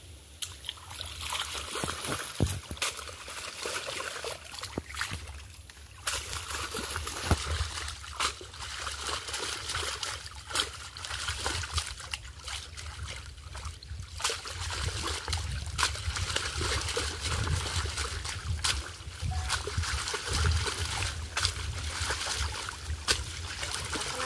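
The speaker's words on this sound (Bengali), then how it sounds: "এখন আমি সব মাছগুলো ভালোভাবে পরিষ্কার করে ধুয়ে নিচ্ছি।" Fish are washed clean in water with soft trickling, splashing and sloshing that goes on for over twenty seconds, faint and close, with handling noises scattered through it.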